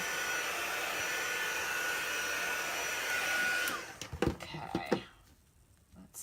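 A heat gun blows a loud, steady airy roar for nearly four seconds while drying a chalk paste transfer in a craft project, then cuts off, leaving a few faint clicks and handling noises.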